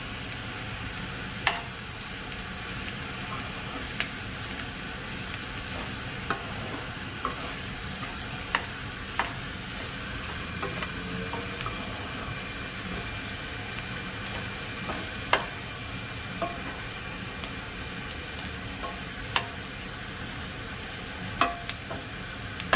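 Egg fries for Thai chicken fried rice in a steady low sizzle, with scattered faint taps and scrapes of stirring and no voices.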